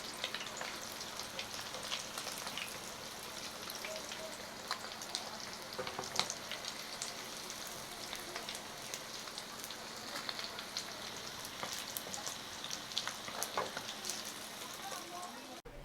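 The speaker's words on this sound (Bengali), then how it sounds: "চুলাটি হালকা তাপে মাছগুলো ভাজবেন, তাহলে মাছগুলো পুড়ে যাবে না।" Rui fish fry in oil over low heat, a steady soft crackle with fine pops running throughout, moderately quiet and continuous with no talking.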